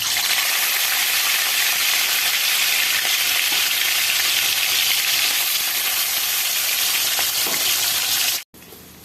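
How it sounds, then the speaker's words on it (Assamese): Gorai fish frying in hot oil in a wok makes a loud, close, continuous sizzle and crackle that holds steady before cutting out briefly near the end. "তেল দি এতিয়া মই ইয়াত মাছটো ফ্ৰাই কৰিম"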